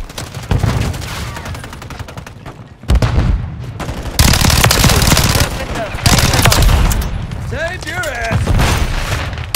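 SCAR-L and KRISS Vector gunfire in the Modern Warfare II Dark Waters mission, loud rapid bursts of automatic fire with booming impacts, broken by brief pauses, while voices shout over the shooting.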